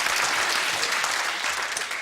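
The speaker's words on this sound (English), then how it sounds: "A round of applause for the 10" Studio audience applauding game show contestants, a brief burst of thick, continuous clapping at full volume from start to finish.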